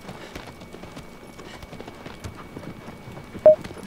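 Horse galloping across open land in the video game Shadow of the Colossus, a soft, rapid, continuous rhythm of hooves, with a short sharp louder thump near the end.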